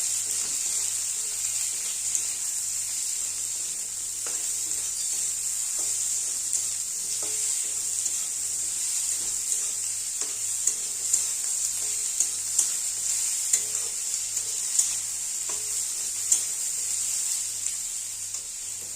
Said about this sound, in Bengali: দিয়ে দেবো এবার পেঁয়াজ কুচি। ভালো করে তেলের সাথে মিশিয়ে নেবো।